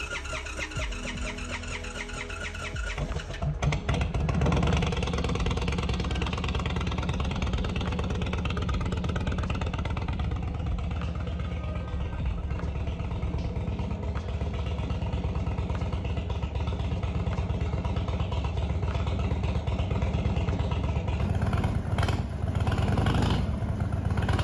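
Indian Chief motorcycle idling close up through its exhaust, a loud continuous rumble that steps up slightly after a few seconds and holds steady with a faint mechanical clatter.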